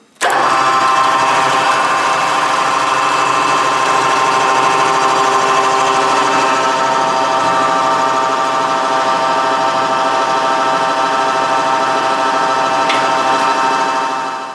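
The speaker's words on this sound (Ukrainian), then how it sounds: "Включаємо движок." Motor of a hydraulic press used to squeeze a bag of wax raw material starts up and runs steadily, a loud continuous mechanical drone with strong harmonic hum throughout, alone with no talk.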